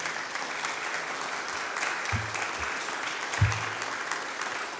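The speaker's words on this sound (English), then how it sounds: "Let's give a big round of applause" An audience at an Algonquin Park speaker-series talk gives a sustained round of applause for the guest, a dense even clapping texture with a couple of brief low thumps.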